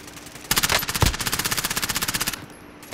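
Automatic gunfire in Call of Duty: Modern Warfare, a loud close burst of rapid evenly spaced shots lasting nearly two seconds, opening with a couple of heavier blasts and then fading out, with no talk.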